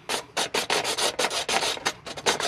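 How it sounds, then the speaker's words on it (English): A hacksaw cuts through a drain pipe in a commercial building with quick, rhythmic rasping strokes, close and crisp, about a dozen back-and-forth pulls with no talking. "Now we'll work on cutting it."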